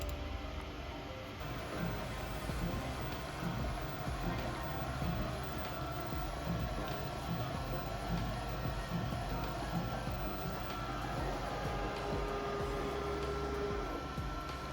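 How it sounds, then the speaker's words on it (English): An Epson F2100 direct-to-film printer runs its color printing pass, a dense mechanical clatter and whir with a rhythmic rattle from the moving print head, steady and close throughout. "you can hit Print and do your color pass"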